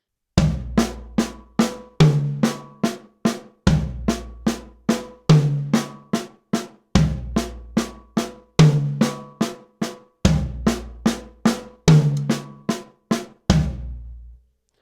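Toms played as accented single paradiddles in a drum lesson, a steady run of close, resonant hits with louder accented strokes recurring in regular groups, repeating for about fourteen seconds and then stopping.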